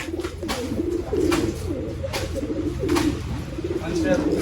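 Haifa pigeons coo close by in repeated low, throaty rolls, several calls in a loose rhythm over a quiet background.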